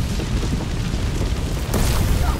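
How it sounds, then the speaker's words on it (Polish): Explosions in the video game A Plague Tale: Innocence, a loud rumbling boom with a burst of crackling debris over dense, continuous game noise, without speech. "te wybuchy to jest jakaś masakra"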